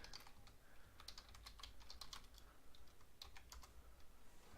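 Fingers type steadily on a computer keyboard during a coding session, producing quiet, rapid, irregular key clicks with no talking.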